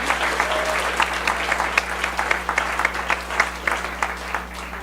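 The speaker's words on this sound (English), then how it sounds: "give them a round of applause" An audience at the VEISHEA Says I'm Funny 2013 comedy event applauds the judges, with a full, continuous clatter of clapping and scattered sharper claps over a steady electrical hum.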